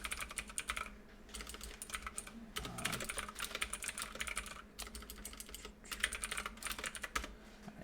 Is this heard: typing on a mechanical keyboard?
yes